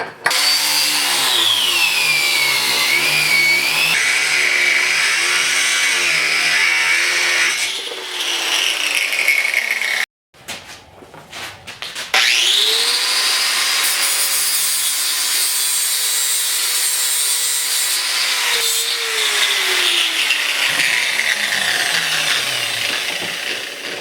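A power saw cuts through metal for a mini bobber build, a loud, close, sustained whine with shifting pitch, briefly stopping mid-cut before resuming and running steadily to the end.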